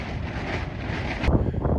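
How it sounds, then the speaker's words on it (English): Strong storm wind sweeps across a deserted island during a tornado watch, roaring continuously and buffeting the microphone with heavy, close gusts. "Windy."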